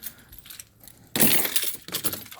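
A bunch of keys jangles close by in a ute, a loud metallic rattle that starts suddenly after a quiet moment and goes on in short shaking bursts.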